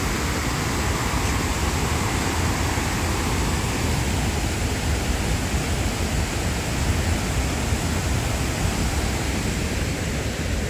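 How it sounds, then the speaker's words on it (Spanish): Paterson Great Falls in New Jersey pours down as a loud, constant roar of falling water, unbroken and with no voices. "Miren chicos, pueden observar, miren las cascadas."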